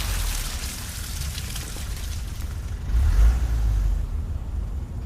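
A car carrying two gang members pulls away from a red-brick house, its engine a low rumble that swells midway amid outdoor noise that sounds like rain, with no voices.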